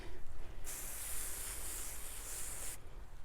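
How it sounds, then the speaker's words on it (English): A steady, hissing spray from a pump-up garden pressure sprayer bursts out for about two seconds onto vegetable plant leaves, then cuts off abruptly, with quiet background noise before and after. "you can just pump her up and then just spray"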